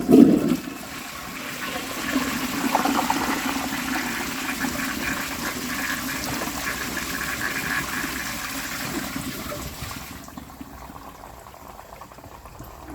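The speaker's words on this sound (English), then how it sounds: "Now let's give it a flush and see how it does on tests." A 1935 Standard Siacto flushometer toilet fed from a high tank flushing with a loud initial whoosh, then a sustained rushing, gurgling water flow that runs for about ten seconds before cutting off and leaving faint trickling.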